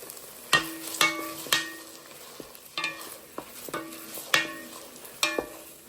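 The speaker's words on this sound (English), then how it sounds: "Sauteing this up a little bit together." Diced onion and a small spoonful of minced garlic sauté in a pot, with a quiet background sizzle broken by repeated sharp scraping stirs at irregular intervals.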